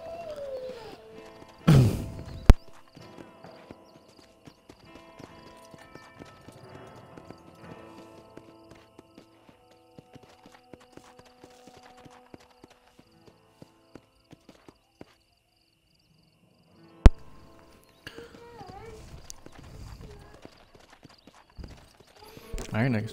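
Horse hooves clip-clop in Red Dead Redemption, a few sharp knocks and scattered steps standing out against quiet game ambience, with a voice talking at times.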